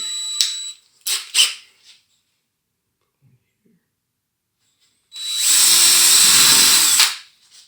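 A few short power drill bursts, then a long, loud whirring drive of about two seconds as screws go into a wooden crate, close by, with quiet stretches between.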